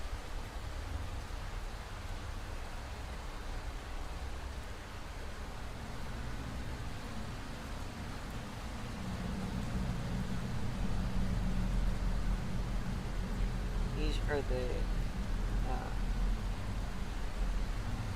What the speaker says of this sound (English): It's currently raining outside.